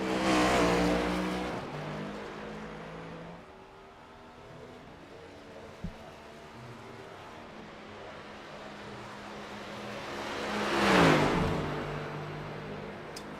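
A stock car in the iRacing simulation at Dover pulls onto the track. The engine note fades from a loud start to a steady drone, then swells into a close revving pass near the end.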